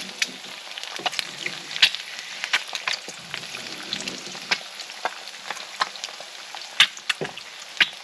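Over easy eggs fry in a cast iron pan, a steady close sizzle with frequent crackling pops scattered throughout, no voices over it.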